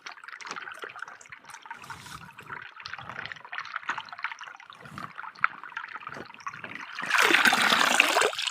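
Small eggplants and potatoes are washed by hand in water, giving close splashing and trickling with rubbing, ending in a stronger rush of running water.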